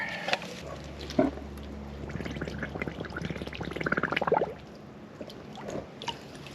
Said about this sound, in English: I'm gonna pour the dirty water in here and filter it with this.